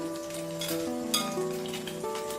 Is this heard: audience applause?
no